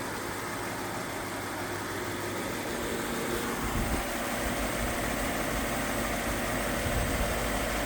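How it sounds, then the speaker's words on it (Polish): A Lexus LS 430 engine idling, a steady, smooth, low hum with a faint broadband hiss, heard alone and unchanging. "Silnik cyka dosłownie jak zegareczek."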